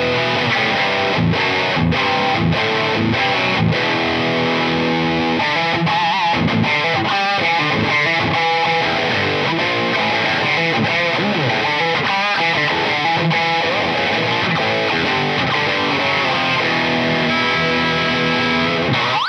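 A satin black Jackson X Series SLX DX Soloist electric guitar with gold hardware plays through heavy distortion, loud and sustained with chugging riffs, chords and lead phrases running continuously with no pauses or voices.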